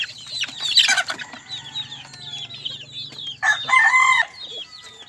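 Pet chickens clucking and squawking while being fed chick starter, a close, busy flock with loud bursts of calls and rooster-like cries over a low hum, no speech.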